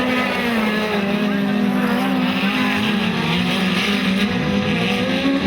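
Speedcars roaring away at Maryborough Speedway, a loud continuous engine drone with rising and falling pitch as the pack races around the track, a commentator's voice faintly under it.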